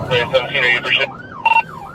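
A police siren wails during a vehicle pursuit, its rising and falling tone sweeping clearly in the second half after a stretch of radio dispatch talk.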